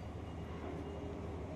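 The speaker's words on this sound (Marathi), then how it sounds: "सहा रोडवरून आपली ट्रेन निघाली आहे मागचं स्टेशन." An underground Mumbai Aqua Line 3 metro train runs in a quiet, steady low rumble and rolling hum heard from inside, continuous and even for the brief moment.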